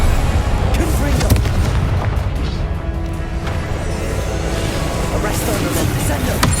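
Repeated booming blasts of the Confringo fire spell in Hogwarts Legacy, loud and dense over a rumbling background, with a voice casting spells among the impacts.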